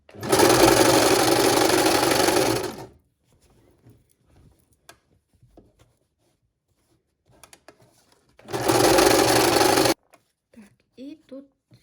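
Sewing machine stitching tape onto a curtain, running in two loud steady bursts of rapid whirring separated by a quiet pause full of small handling clicks and fabric rustles.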